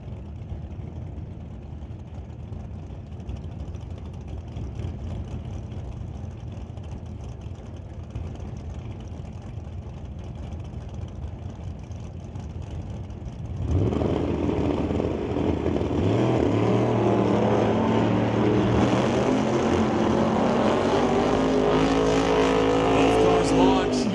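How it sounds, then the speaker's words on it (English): Drag racing at a Super Pro event, a Chevrolet against a 1978 Malibu: a low engine rumble under an announcer's voice, then a sudden loud roar as the cars launch, building and sustained to the end. "Alongside Mark Rochelle, the Lordco Auto Parts Chevrolet will dial in at 10:55 to the 78 Malibu's"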